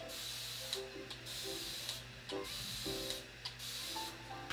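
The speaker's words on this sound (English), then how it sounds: "So I need to spray some water." A spray bottle mists water onto a face in repeated short hissing pumps, about five or six bursts, close and fairly quiet over a steady low hum.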